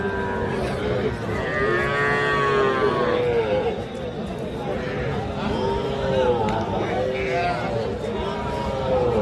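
A young bull calf at a cattle market in Comilla, Bangladesh, lows in several loud, drawn-out moos close by, with people talking and bargaining over a busy crowd murmur.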